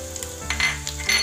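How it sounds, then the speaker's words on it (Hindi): Garlic and ginger sauté in two tablespoons of oil, a brief close sizzle with bursts of scraping as the pan is stirred. "टू टेबलस्पून ऑयल में हम गार्लिक और जिंजर को सौते कर लेंगे।"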